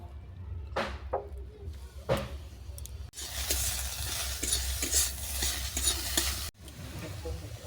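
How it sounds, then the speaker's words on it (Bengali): Grated ash gourd stirred in a wok with a spoon, first as scattered scraping clinks, then as a loud, steady sizzle of frying in ghee with scraping strokes, which cuts off abruptly before quieter stirring resumes. "এরপর কড়াইতে ঘি দিয়ে আমি চাল কুমড়োটাকে ভেজে নেব।"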